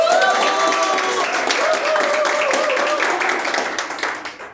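Sustained applause from an audience at a book presentation in Mexico, dense and steady clapping with a voice trailing off at the start, fading toward the end.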